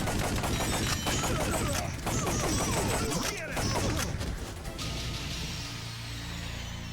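Rapid bursts of gunfire from the Time Crisis arcade shooter, dense and loud throughout with crashing impacts mixed in, easing slightly toward the end, with game voices faintly beneath.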